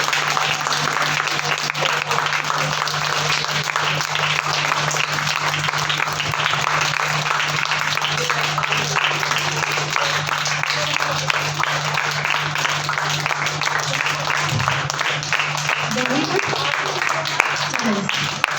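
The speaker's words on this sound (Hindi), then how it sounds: "सभी तेज से ताली बजाएंगे" Children at a summer camp program applaud steadily to welcome a guest, a dense, even wash of clapping from a group that carries on unbroken for a long stretch, with a low steady hum underneath.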